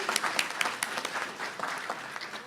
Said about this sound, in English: So a huge round of applause to Terry.